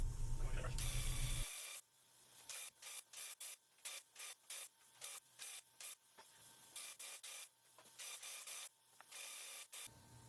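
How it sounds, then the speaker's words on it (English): A small Graco paint sprayer puts paint onto glazed joinery in short repeated bursts, each a loud hiss separated by brief pauses, after a longer steady hiss at the start. "Now I've got this new little Graco sprayer which works pretty good"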